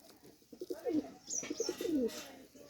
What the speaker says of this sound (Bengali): এটা হলো মেল, মানে নর কবুতর।